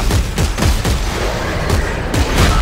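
Rapid bursts of gunfire in the co-op sci-fi horror game Dead Space 3, loud and close, with overlapping shots and brief gaps, and no voices.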